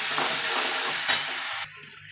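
Onion, ginger and garlic paste frying in oil, a steady close sizzle with stirring scrapes that cuts off near the end.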